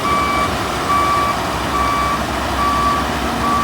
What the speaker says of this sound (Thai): รถไฟกึ่งรถบรรทุกนะครับ วิ่งบนรางนะครับ